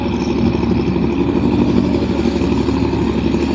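A boat engine straining hard while pushing a barge on the Pasig River, a steady loud rumbling drone with mechanical clatter, unbroken and close.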